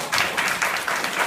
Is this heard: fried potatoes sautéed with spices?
no